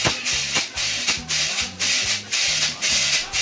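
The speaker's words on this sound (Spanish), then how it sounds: "la palabra guacherna viene de guache, pero del instrumento musical, que es típico de Colombia y de Venezuela" A guache, a rustic Colombian tubular shaker, is played in a steady back-and-forth rhythm, giving bright rattling swishes with regular accents, close and alone.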